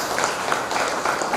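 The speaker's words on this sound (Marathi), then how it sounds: "आपण सर्वजण त्यांचे टाळ्या वाजवून त्यांना" Audience applause at a stage programme, a steady wash of many hands clapping at moderate loudness with no voices over it.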